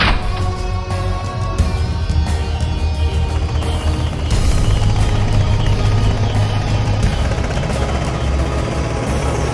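A steady mechanical drone from an aircraft engine in the game Skyborn as it flies off, a loud continuous hum with layered tonal whine and rumble, sustained throughout with no pauses and no voices.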